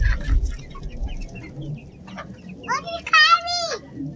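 Chickens cluck near a coop, with a run of louder bird calls toward the end. Low background noise and a brief voice sit underneath.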